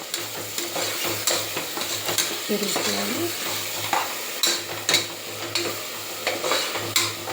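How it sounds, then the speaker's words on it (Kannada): Masala paste for methi bath fries in oil with a continuous crackling sizzle, broken by repeated rhythmic scrapes of a spoon stirring against the pan. "ಹಾಕಿ ಇದನ್ನು ಎಣ್ಣೆ ಬಿಡೋ ತನಕ ನಾವು ಫ್ರೈ ಮಾಡ್ಕೋಬೇಕು"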